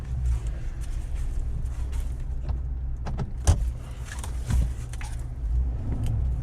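A Chevrolet truck being parked gives off a steady low engine rumble, with a few sharp clicks and a louder thump near the middle.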